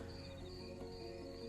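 Crickets chirp in a steady, faint, continuous trill, a soft layered drone with no voices over it.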